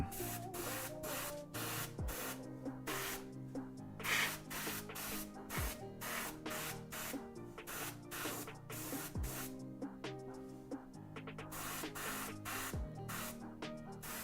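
An airbrush sprays a cobalt pre-shade coat, giving a steady soft hiss that runs almost unbroken throughout, quiet and close, with faint background music.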